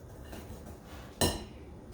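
A single sharp metallic clink rings out as a utensil strikes an aluminum baking pan while peach cobbler ingredients are being mixed. It stands alone against a faint, steady background hiss.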